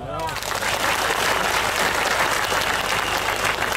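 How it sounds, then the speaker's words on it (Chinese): An audience at a coffee-shop political forum in Johor breaks into sustained clapping, a dense, steady wash of applause that holds loudly throughout with no pauses. "听过翁思杰这个名字的拍手。"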